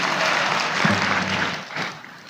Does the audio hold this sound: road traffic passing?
no